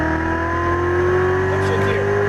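A Chevrolet Corvette Z06 Stingray accelerates on a race track during a track day, its engine tone rising in a steady, loud, close drone for a couple of seconds with no talk over it.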